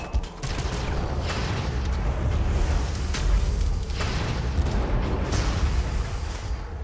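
Mortar fire in the Warhammer 40k Armageddon video game, heard as a dense, continuous barrage of booming thuds and crackling impacts, steady and loud throughout with no speech.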